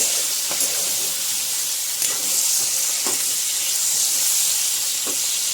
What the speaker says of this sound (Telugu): బాగా మంట తగ్గించేసి దాని మీద బాగా ఉడకాలండి ఇది వంకాయలు కానీ మిర్చి కానీ ఇవన్నీ బాగా కుక్ అవుతాయి